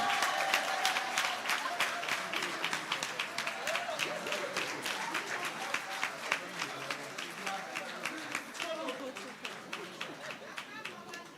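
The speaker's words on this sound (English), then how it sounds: "Another round of applause for the Honorable Minister." Applause at a civil service awards ceremony honoring a regional minister receiving an honorary award: distinct claps over a fading hum of crowd chatter, with rhythmic clapping continuing steadily and growing quieter.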